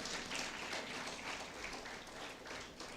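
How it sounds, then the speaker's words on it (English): Audience at a workshop clapping their hands, a soft, steady spread of applause without a break, faint and somewhat distant. "Let's clap our hand for you."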